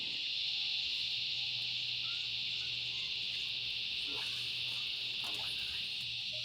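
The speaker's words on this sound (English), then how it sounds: "you can probably hear the cicadas in the trees" Steady, high-pitched insect drone of cicadas in trees fills the background continuously, with a low hum and occasional faint chirps underneath, beside water in Sydney.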